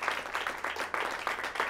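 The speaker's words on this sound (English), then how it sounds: "Give Kirker one more round of applause" Audience applause for a show guest, a steady patter of many hands clapping close by, sustained through the short stretch.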